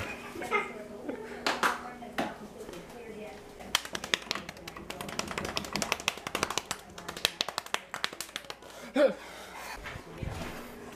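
Hand claps aimed at switching clap-on lights late at night in a dark room, a few sharp close claps and taps scattered among quiet rustling and murmured voices.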